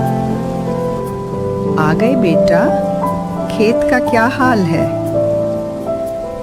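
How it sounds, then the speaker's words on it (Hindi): Heavy rain falls outside a poor farmer's village hut in an animated Hindi story, a steady pattering wash under a talking voice and music. "बाहर अब भी तेज बारिश हो रही है"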